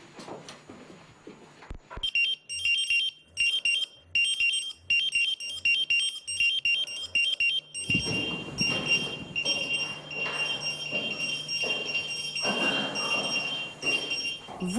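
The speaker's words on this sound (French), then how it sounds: "Vous l'entendez, les alarmes retentissent." Air quality alarms inside a cave emit repeated bursts of high electronic beeping, first in short regular pulses, then sounding almost continuously over rumbling, echoing background noise and movement.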